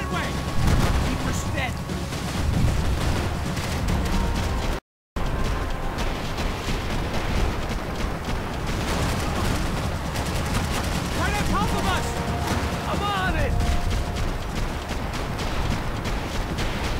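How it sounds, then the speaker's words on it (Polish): Explosions and bursts of gunfire from the Max Payne 3 video game, a dense loud barrage of shots and booms with voices faintly mixed in. "Wybuch. Wrogowie zabici wybuchami 25 punktów."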